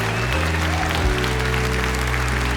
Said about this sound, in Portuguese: dê uma salva de palmas ao Senhor e glorifique a Ele